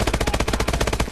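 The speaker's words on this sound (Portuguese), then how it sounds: "Tem alguém me atirando?" Rapid automatic gunfire in the futuristic shooter Call of Duty: Advanced Warfare, a loud, evenly spaced burst of about a dozen and a half close shots fired in quick succession.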